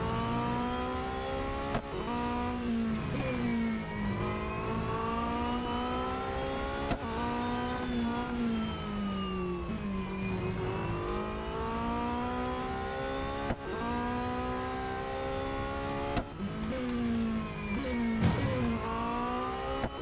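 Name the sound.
race car engines in Real Racing 3 video game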